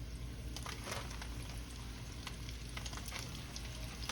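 Shrimp frying in hot oil in a wok, a steady dense sizzle with crackling pops running throughout, close and fairly quiet, with no talking.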